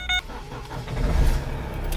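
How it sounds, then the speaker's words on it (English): A manual-transmission car engine starts up and settles into a low, steady idle, preceded by a brief dashboard chime; the rumble is close and fairly loud, with no talking. "now that I've started the car"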